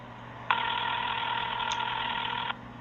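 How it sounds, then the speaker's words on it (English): A telephone rings unanswered on the other end of a call, heard as one steady electronic ringing tone lasting about two seconds over a low hum, with no one picking up. "For some reason or other, the phone's not being answered."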